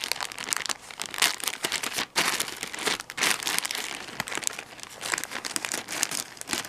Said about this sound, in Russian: Сегодня получила посылку с AliExpress, и давайте ее откроем,